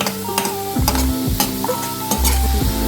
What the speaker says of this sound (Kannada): ಸೊ ಈಗ ಇದನ್ನು ಬ್ರೌನ್ ಆಗುವ ತನಕ ಫ್ರೈ ಮಾಡಬೇಕು.